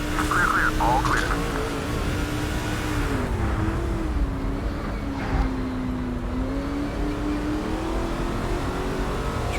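A NASCAR 06 racing truck engine drones in a steady high whine, pitch bending gently up and down through a corner, loud and constant beneath someone talking.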